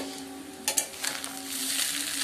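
Veg fried rice with sugar, salt, green chilies and fried vegetables is stirred in a pan, a couple of sharp scrapes followed by a rising, steady sizzle over a faint background hum.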